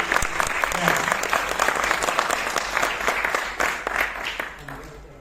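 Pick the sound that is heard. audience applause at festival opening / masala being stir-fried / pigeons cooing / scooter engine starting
audience applause at festival opening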